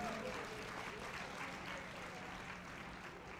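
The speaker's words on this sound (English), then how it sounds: "Give him a round of applause, everybody." A stage-show audience gives a round of applause for a volunteer, a fairly quiet, continuous patter of clapping that stays level for a few seconds, with voices faintly mixed in.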